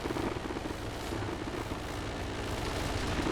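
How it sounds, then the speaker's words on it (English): Helicopter rotor and engine noise in the World War II multiplayer shooter High Command, a dense continuous drone holding steady for several seconds with no talk. "Helicopter took another hit."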